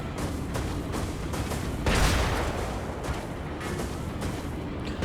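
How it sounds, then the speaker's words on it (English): A mech's ground stomp in the game Brigador setting off a string of explosions against statues and buildings, heavy booming blasts layered in a continuous rumbling barrage, with one louder burst partway through. "Good opportunity to use the ground stomp."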